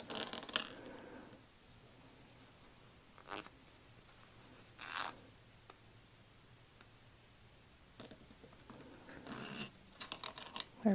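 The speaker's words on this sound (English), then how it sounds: "I'm going to use my little zipper jig here." A zipper pull being fitted onto a zipper with a small zipper jig for a crossbody bag, heard as a few brief, sharp clicks and scrapes separated by quiet pauses, close and fairly soft.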